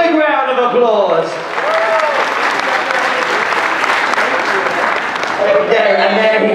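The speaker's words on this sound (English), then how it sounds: "Big round of applause." A Carnival Mardi Gras crowd bursts into loud applause and cheering for a participant named Bradley, with a voice talking over the start and end of the clapping.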